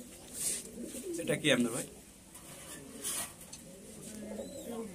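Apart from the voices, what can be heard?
pigeons of many breeds cooing in a loft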